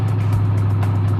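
A supercharged 350 Vortex V8 car engine running with 7 pounds of boost, a loud, close, steady low rumble with a strong droning tone and slight pulsing.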